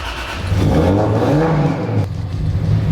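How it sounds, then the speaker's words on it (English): A turbocharged Lexus IS300 engine revs up loudly and then settles into a deep, rumbling low idle, close to the car with no talking. "That is quite the low idle."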